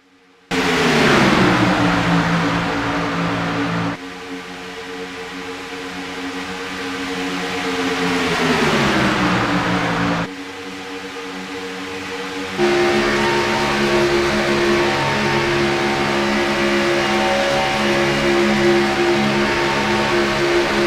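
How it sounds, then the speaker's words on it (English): Race cars at Talladega Superspeedway roaring past in loud sustained engine drones, with several abrupt shifts in pitch and level as cars pass, continuous and close with no talk. "where you can hear the sounds of the race cars."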